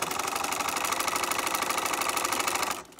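A sewing machine stitches a few test stitches through fabric on a monogram setup, a loud, fast, even mechanical chatter running for under three seconds before stopping abruptly.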